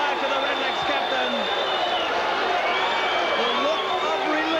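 A stadium crowd roars and cheers continuously after a goal at a 1986 Australian football match between Sturt and Norwood, the dense wall of cheering with whistles and whoops sustained throughout, while a commentator's voice runs over it.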